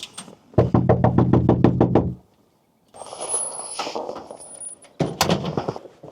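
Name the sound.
knocking on a door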